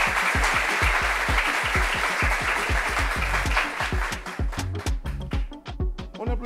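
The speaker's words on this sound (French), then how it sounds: "On applaudit toujours." A television studio audience applauds on set: thick clapping at first, then thinning into scattered individual claps that fade toward the end.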